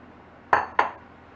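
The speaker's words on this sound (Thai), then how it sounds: "ผัดให้เข้ากันเหมือนเดิมนะ" A utensil stirring flattened rice (khao mao) with sugar in a pan for a fried sweet snack: two quick, sharp metallic clinks against the pan, close and otherwise quiet.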